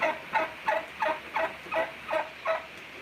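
A homestead bird calls out in a steady run of about seven evenly spaced clucks, moderately close, over faint outdoor background.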